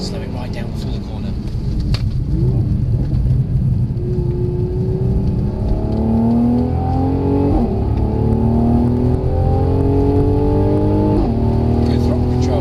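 A Mercedes-Benz C43 AMG engine pulls hard on a track, its harmonics climbing steadily in pitch as the throttle builds through several gear stages, loud and close under an instructor's continuous coaching voice.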